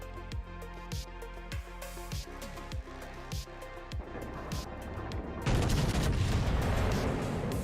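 Naval guns firing in World of Warships, a series of evenly spaced heavy booming shots, then a denser roaring barrage near the end, loud and close amid game music.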